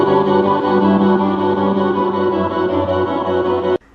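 Electric guitar from Circe's music, with its sustained tone pulsing under a low frequency oscillator wobble that sweeps in and out, playing loud and alone before cutting off abruptly.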